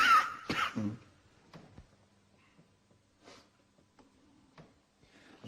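A person coughs during a late-night ghost hunt along a dark corridor, one sharp loud cough burst at the start followed by quieter breathy sounds, faint clicks and low movement.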